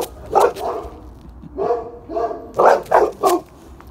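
A dog barks nearby in short bursts, a couple of single barks then a quick run of three, with soft whimpering between.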